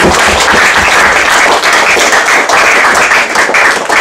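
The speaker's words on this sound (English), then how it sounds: "let's give a big round of applause to each one" A meeting audience claps loudly and continuously, a dense, sustained round of applause with no talking.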